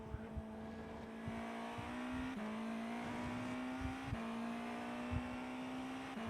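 A frozen car engine sound in a Le Mans racing video game, a steady droning hum looping at one pitch with slight upward steps and faint periodic thumps, continuous and unchanging with no talk.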